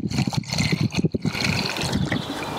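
Reused household water is poured at the roots of garden plants, a steady splashing trickle with uneven gurgling pulses, close by and fairly loud, with no talking.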